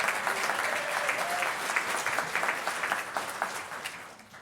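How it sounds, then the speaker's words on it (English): An audience at a city's State of the City address claps in steady, moderate applause that slowly tapers toward the end. "So please give her a round of applause."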